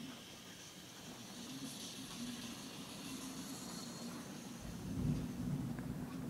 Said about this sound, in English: It's raining outside, so I'm sorry if you can hear it.